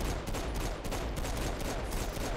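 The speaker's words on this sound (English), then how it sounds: "The fully upgraded rate of fire on the dual pistols is almost." Dual pistols firing in Saints Row IV, a steady stream of rapid, loud shots packed close together throughout with no pauses and no talking.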